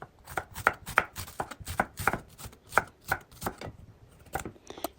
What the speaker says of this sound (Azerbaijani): Soğanı da xırda doğrayıram.